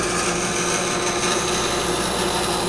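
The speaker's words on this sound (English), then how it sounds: "I'm using a 1/4 inch with bandsaw blade, so it gives me the ability to make tight radiuses." A bandsaw with a 1/4 inch blade cuts through a blank of cherry wood cast in Alumilite acrylic, giving a continuous loud whining hum with a gritty cutting texture and no pauses.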